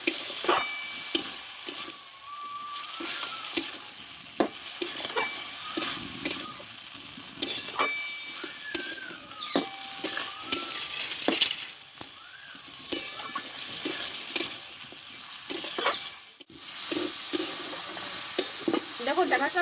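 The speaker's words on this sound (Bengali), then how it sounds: "এইবার এখানে কেটে ধুয়ে রাখা সজনে ডাটাটা আমি ঢেলে দেবো এই মশলার সঙ্গে ভালোভাবে একটু কষে নেবো আমি" Cut drumstick stems stirred into spices in a hot pan, sizzling steadily while a spatula scrapes and clacks in an irregular rhythm, close and fairly loud, no voices.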